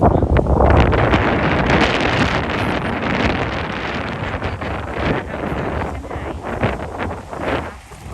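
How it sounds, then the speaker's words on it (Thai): Strong gusty wind on a ferry crossing between the Isle of Wight and Southampton roars loudly into the microphone, a heavy buffeting rush that eases slightly and surges again, with faint water and boat noise beneath. "ลมค่อนข้างที่จะแรงนะคะพายุเข้านิดนึงนะคะ"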